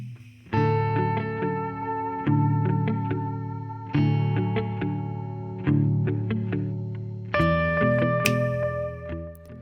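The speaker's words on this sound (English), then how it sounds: "today I'm going to be reviewing the Donner Vintaverb Stereo Reverb pedal." Electric guitar chords ring out through a Donner Vintaverb stereo reverb pedal with lush, chorus-like shimmer, each strum decaying slowly into the next, played alone and loud.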